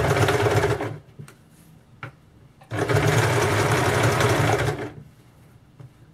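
Sewing machine stitching the edge of a back-open blouse: two loud sustained runs of rapid stitching, about a second and then two seconds, separated by quiet pauses with a brief tap between.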